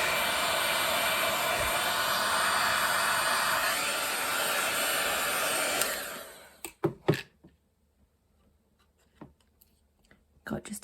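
A heat tool blows a loud, steady whooshing roar over wet paint on artwork, then cuts off, leaving quiet with a few brief knocks and handling sounds.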